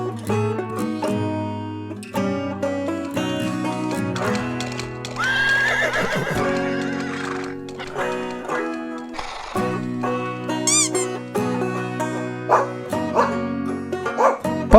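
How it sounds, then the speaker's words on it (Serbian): A horse neighs and whinnies several times against a steady musical backing, with clip-clopping hooves, in a children's animal-sounds compilation; the calls are close and loud. "konj,"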